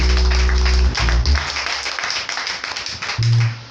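A church congregation applauding during a sermon, dense loud clapping from many hands that fills the room for several seconds, with a deep organ or keyboard chord sounding under it at the start and end.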